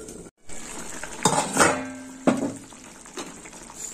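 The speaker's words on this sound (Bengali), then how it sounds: "আর একটু ফুটুক" Karela masala, a bitter gourd curry with ground corn kernels, bubbling in a pan, with clattering utensil and stirring sounds, scraping and sizzling over a steady simmer, close and fairly loud, without speech.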